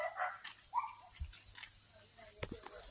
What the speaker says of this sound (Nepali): डरलाग्दो कराउँदैछ नि कुकुरले